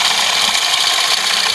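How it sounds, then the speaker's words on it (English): A variable-speed drilling machine bores a model steam engine part, giving a steady, close, hissing whir with the bit grinding through the metal and no break in the sound. Nobody speaks. "And again a straightforward drilling operation."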